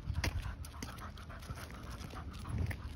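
A dog, a female with littermate parents, pants rapidly and steadily close by, with soft rhythmic breaths over some background rustle and a faint thump or two.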